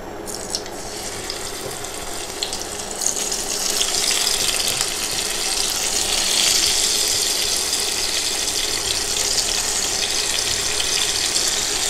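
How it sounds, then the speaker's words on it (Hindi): Surmai fish frying in hot mustard oil in a pan, a steady dense sizzle and crackle that swells after a few seconds and holds loud and close. "अब इसमें हम धीरे धीरे करके फिश डालेंगे।"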